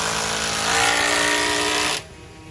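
An electric drill boring holes for 5/8 bolts through a doubled 2x12 beam on a boat house build whines loud and close, rising briefly mid-way, then cuts off abruptly near the end.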